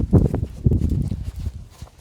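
Horse hooves thud on soft ground in an uneven rhythm, quickening as the horse moves up into a canter, close and moderately loud.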